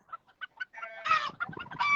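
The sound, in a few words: chickens clucking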